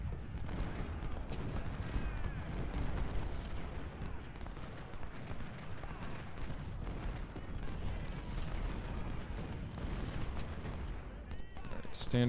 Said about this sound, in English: they're getting hit in the flank by artillery.